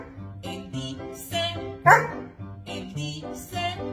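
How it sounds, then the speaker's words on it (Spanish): A small dog barks and yips in quick repeated bursts, close and fairly loud, mixed with tonal piano-like notes. "Existe un perrito que ladra en mi barrio cuando suena el piano."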